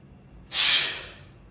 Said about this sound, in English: Just slightly breathe out.